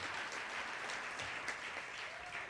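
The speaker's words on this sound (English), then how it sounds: "Give them a round of applause" Brief, fairly faint audience applause at an awards livestream, an even, steady patter of clapping with no voices over it.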